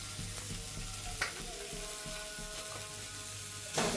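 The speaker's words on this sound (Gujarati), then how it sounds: "લોયામાં આપણે માવો લઈ લેશું એને આપણે શેકી લેશું" Mawa (milk solids) roasts in a pan, a quiet low sizzle with rhythmic scraping of a spatula and occasional louder clanks against the metal.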